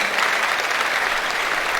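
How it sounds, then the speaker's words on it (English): Steady, dense applause from the audience at a university orientation programme for fresh students, full and continuous throughout with no break. "Give them a round of applause."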